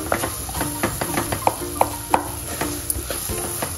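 Banana pieces sauté in ghee in a pan over low to medium heat, with a soft, steady sizzle broken by repeated spoon stirs and scrapes in an uneven rhythm, close by and with no talk.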